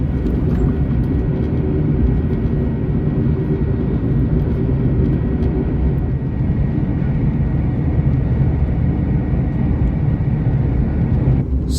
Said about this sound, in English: Speeding up the East Coast mainline